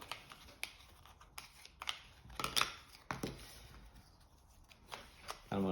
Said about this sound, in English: I'll shuffle them up